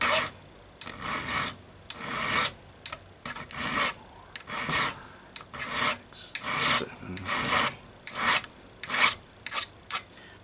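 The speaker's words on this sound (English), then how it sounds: "That took about 10 swipes of the file to get the factory Oregon gauge down to where that would be on this gauge" A hand file is drawn over the depth gauges of an Oregon chainsaw chain using a 3/8 gauge setting. Close, dry rasping strokes repeat quickly in an uneven rhythm, around sixteen of them, with short pauses and no talk.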